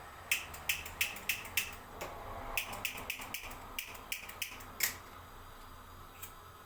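Sharp, rapid clicks from lighters being struck to ignite kitchen stove burners while a chicken dish cooks, coming in quick bursts of several snaps, pausing, then a few more scattered clicks, close and fairly crisp.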